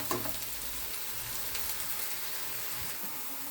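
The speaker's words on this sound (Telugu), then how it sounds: "ఫస్ట్ ఆయిల్ పోసుకొని ఆయిల్ వేడెక్కాక ఆనియన్స్ వేసుకొని ఇలా వేపుకోవాలి ఫ్రెండ్స్" Onions frying in hot oil, a steady broadband sizzle with a crackling start that settles into an even, close hiss throughout.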